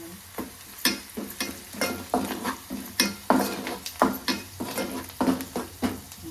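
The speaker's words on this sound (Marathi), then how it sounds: "पण परतून घेऊ आपण" Ingredients for misal pav, green chillies among them, sautéed in a pan with a spoon, giving repeated scraping stirs over a steady sizzle, close and fairly loud, with no talk.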